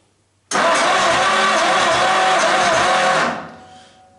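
A 1939 Standard car engine on its first start-up bursts into a loud, harsh churning whir for about three seconds, then cuts off and fades.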